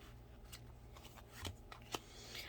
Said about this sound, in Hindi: अब हम लास्ट कार्ड निकालेंगे।